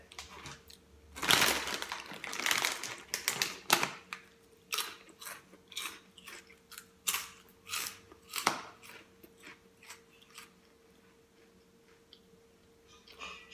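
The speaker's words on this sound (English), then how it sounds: "So these are shrimp flavored crackers." Shrimp-flavored crackers being bitten and chewed up close, a run of crisp irregular crunches that tapers to softer chewing, with no talking.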